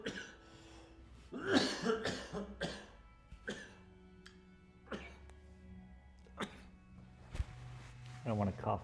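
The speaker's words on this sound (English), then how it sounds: "I don't want to cough directly into your ears." Several short coughs from a person painting a large cloud canvas, sharp bursts scattered across the stretch with quiet pauses between them and some talk mixed in.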